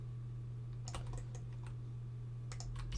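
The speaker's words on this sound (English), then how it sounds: "press and hold D on the keyboard, like so" Keys on a computer keyboard pressed during 3D modelling work, a few scattered soft clicks in two short bursts over a steady low electrical hum, quiet and close, no talking.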